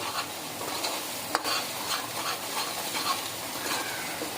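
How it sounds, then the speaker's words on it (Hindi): Spices sizzle and fry in a pan for an egg and chana dal fry, a steady soft crackle with light stirring scrapes and one brief clink, no talking. "आधे मिनट के लिए मसालों को भून लेंगे।"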